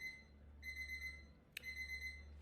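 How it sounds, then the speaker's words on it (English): A phone alarm beeps in a quiet room, a faint electronic tone repeating in short pulsed bursts with a brief gap and a small click midway, over a low steady hum. "that was my alarm"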